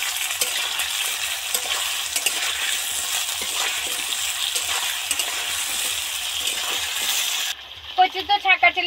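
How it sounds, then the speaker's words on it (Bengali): Taro pieces deep-frying in hot oil in a pan give a dense, steady crackling sizzle for about seven seconds, then it cuts to a few sharper, louder clattering knocks near the end. "কচু তো ছাঁকা তেলে ডিপ ফ্রাই করে ভাজা হয়ে গেল।"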